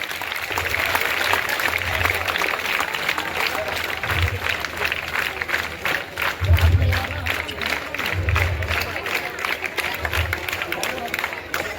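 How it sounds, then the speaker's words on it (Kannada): Audience clapping fills a sports event gathering, a steady broadband patter with crowd murmur underneath and swelling bursts every couple of seconds, continuous and fairly loud throughout. "ಚಪ್ಪಾಳೆ ದಯವಿಟ್ಟು"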